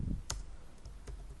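A few sparse keystrokes click on a computer keyboard, two or three sharp taps spaced apart over a faint room background.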